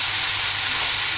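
Chanterelle quiche filling sizzles in a frying pan, a loud, even hiss of frying that runs without a break through the short moment.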